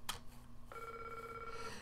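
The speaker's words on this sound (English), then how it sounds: "There's the phone." A telephone rings in a quiet room, a clear electronic bell tone starting after a short tap and sustaining for about a second, faint and somewhat distant with no talk.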